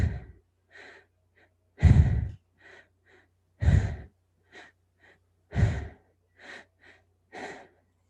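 Slow, deep breaths from a guided breathing exercise: about four long, heavy exhales with shorter, softer inhales between them, close and clear, with no talking.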